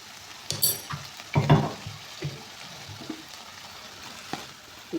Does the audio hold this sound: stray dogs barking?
no